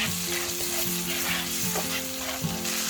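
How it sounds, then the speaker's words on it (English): Onions frying in a pan over low to medium heat give a steady, close sizzle with occasional stirring scrapes, and no one speaks. "Now bang in the onions. And you're going to just fry it like that for a couple of minutes."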